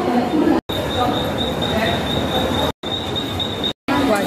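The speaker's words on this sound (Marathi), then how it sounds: "वाशी ट्रेनमध्ये चढले." Commuter train at Thane railway station, rumbling and rattling steadily with a thin high wheel squeal running through, loud and close, broken by a few abrupt gaps.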